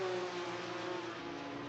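A race car engine drones at high, steady revs while topping out on the back straight at Le Mans, a continuous buzzing hum heard from a distance with no voices.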